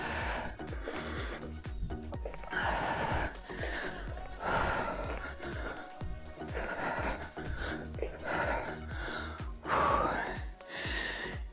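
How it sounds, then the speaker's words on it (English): Heavy, labored breathing after a set in a standing dumbbell cardio and strength HIIT workout, with repeated gasping breaths over a steady bed of background music. "I'm breathing hard."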